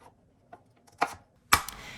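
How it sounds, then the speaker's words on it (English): A knife chopping parsnips on a cutting board, heard as three crisp, separate close-up chops, each louder than the last, with faint background noise between. "First, you need to peel and chop 6 medium-sized parsnips into about 1-inch size"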